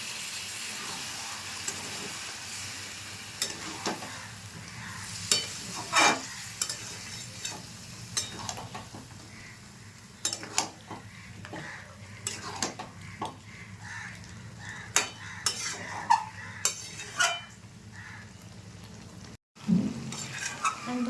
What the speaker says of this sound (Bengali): দিয়ে আর একটু কষিয়ে দেবো।